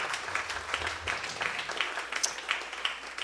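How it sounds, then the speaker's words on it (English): A seated audience applauding performer Jim Vash at a live event: dense, steady clapping from many hands that holds at an even level for a few seconds, somewhat distant. "Everybody clap for Jim"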